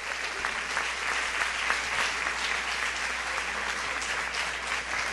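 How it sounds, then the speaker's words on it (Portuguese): A church congregation at an evangelical church's 47th anniversary service applauds, producing a dense, even roar of clapping that fills the room steadily throughout, moderately loud with a low hum beneath. "Você pode aplaudir o Senhor por essa palavra?"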